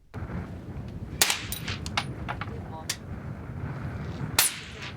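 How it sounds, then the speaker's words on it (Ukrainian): Sharp rifle shots crack at irregular intervals during target shooting practice, some close and some farther off, over a low outdoor rumble. "Обравши свої мішені, починають стріляти."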